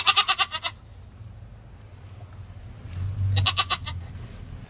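Two close bursts of goat bleating, each a quick series of quavering cries, separated by a quiet stretch with a low rumbling background.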